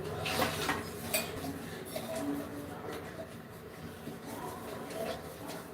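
Faint clinking of dishes and cutlery being handled, scattered light knocks and clatters at a quiet level.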